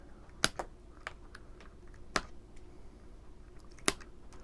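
Wooden toothpicks being snipped down with a cutter, three or four crisp, sharp clicks spaced irregularly over quiet background, with a few fainter ticks between them.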